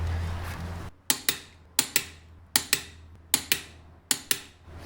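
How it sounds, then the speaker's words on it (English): A car jack raises an MK4 Golf at the frame rail with a block of wood under it. After a low hum fades out, paired sharp ratcheting clicks repeat in an even rhythm, close and crisp. "So I jack it up from here"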